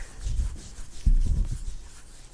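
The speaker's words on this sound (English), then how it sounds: "a bit of cream and I pop it on my cheeks, on my forehead, and on my chin. Very attractive, I know. And I just make sure to rub that in." Moisturizing cream is rubbed into the cheeks, forehead and chin, giving soft, close, low scuffing strokes in two short bursts.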